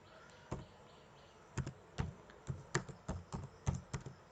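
Typing on a computer keyboard while writing HTML code: quiet, close key taps arriving in short irregular clusters, alone with no talking.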